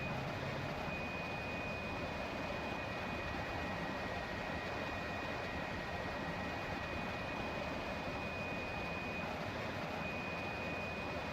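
Steady roar of a running jet engine on the iniBuilds A300-600R in X-Plane 11, broadband turbine noise with a constant high-pitched whine, even and unchanging, with no talking.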